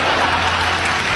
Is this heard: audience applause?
yes